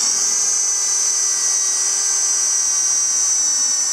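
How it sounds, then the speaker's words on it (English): A drill spins a 1 1/8 inch hole saw through a plastic bucket, giving a steady, loud high-pitched whine that holds evenly throughout with no talking. "I decided to go with a 1 1/8 hole saw."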